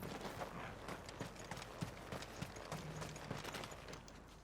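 In Final Fantasy XVI, a horse gallops with rapid, rhythmic hoof clip-clops over a steady rushing background, moderately loud and without speech.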